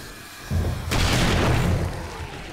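A grenade explodes in the zombie survival game 7 Days to Die during a horde night, a loud deep boom with a sharp burst that rumbles on for a second or two.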